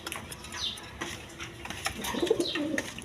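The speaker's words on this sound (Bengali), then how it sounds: "জার্মান বিউটি নিতে পারবেন হোয়াইট কালারের মধ্যে, একদম কোয়ালিটি সম্পন্ন কবুতর" White German Beauty pigeons coo softly, with a few low rolling calls building toward the end over quiet background rustle.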